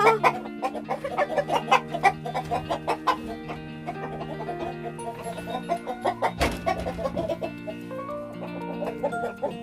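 Greenish-egg Araucana-type hens clucking inside a backyard coop during egg collection, a steady chatter of close, overlapping clucks and calls with a brief louder disturbance partway through.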